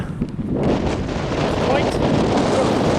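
Strong wind roars and buffets the microphone at the North Berwick seafront by the North Sea, a loud, constant rush with surf-like churning underneath.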